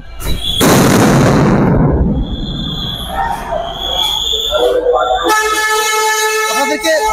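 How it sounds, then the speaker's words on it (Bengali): Police sound grenades go off at a street protest in Dhaka, a loud bang with a rushing burst of noise followed by crowd commotion, horns and a shrill tone, with voices shouting over the din. "পুলিশ সাউন্ড গ্রেনেড মেরে আপনাদেরকে ছত্রভঙ্গ করার চেষ্টা চালাচ্ছে।"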